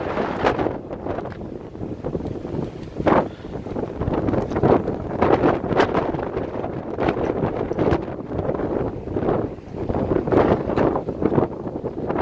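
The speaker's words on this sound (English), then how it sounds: "If the wind dies down later on, which I highly doubt it will" Strong wind buffets the microphone in steady roaring gusts with sharp rustling bursts, loud and close throughout, with no voices.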